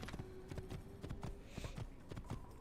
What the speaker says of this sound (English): Get on the different horse. Go, horse, go.